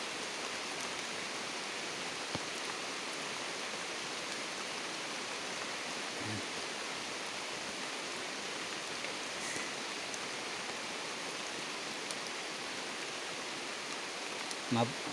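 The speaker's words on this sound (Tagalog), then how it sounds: "abutan kami ng ulan mga kapatid sa taas ng kahoy" Steady rain falls in a continuous soft hiss for the whole stretch, heard from up in a tree, fairly faint and distant, with a few light knocks.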